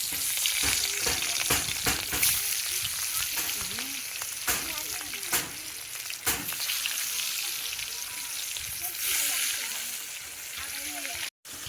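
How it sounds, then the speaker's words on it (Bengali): Hot oil crackles and sizzles continuously as rohu fish fries, with sharp spattering pops and a person talking over the cooking noise. "তেল গরম হয়ে গেছে, মাছগুলো দিয়ে দিচ্ছি।"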